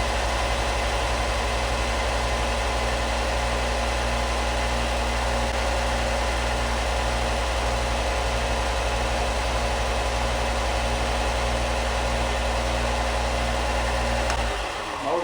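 A Harbor Freight Bauer belt sander runs steadily, its electric motor giving a constant low hum with a faint higher whir. The sound is continuous and even, with no speech, until it winds down at the very end.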